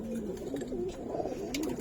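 A Giribaz pigeon coos in a steady, wavering low murmur that runs throughout, close and clear over a light background rustle with no talking.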